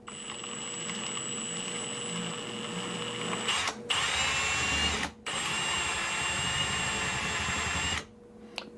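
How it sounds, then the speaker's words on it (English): A power drill runs steadily with a loud, high whine, pausing briefly twice and stopping near the end. "Drill it as straight as you possibly can."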